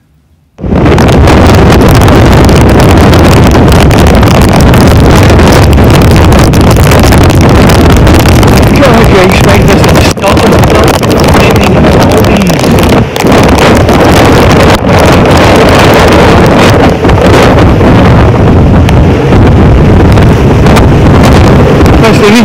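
Strong wind of about 42 knots blows hard across a sailboat at anchor in the Maldives, a constant loud roar with heavy microphone buffeting and no let-up.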